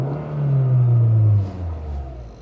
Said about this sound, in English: Sounds like a modern sort of multi-valve 4-cylinder engine